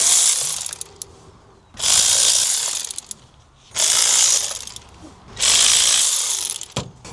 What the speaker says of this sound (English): I'm going to use my electric ratchet because I'm bored of turning it by hand.